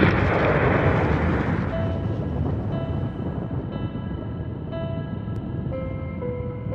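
A heavy explosion sound effect, used in a report on the 12 March 1993 Mumbai blasts, roars loudly at the start and decays into a long rumbling tail with a faint tonal ringing.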